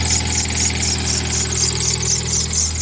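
A 2003 Mitsubishi Eclipse engine idles steadily and close by, with a fast, even clacking ticking through the constant mechanical hum for the whole stretch.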